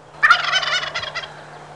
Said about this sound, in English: I just heard another gobble